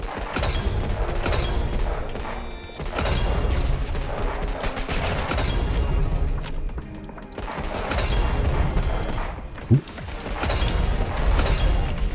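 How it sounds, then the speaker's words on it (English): In a Roblox shooter, a recoil-heavy single-fire weapon cracks out loud, close shots in repeated bursts, with short pauses between volleys and continuous game noise underneath. "When you're using a single fire weapon that has a lot of recoil like this, just make sure you take your time."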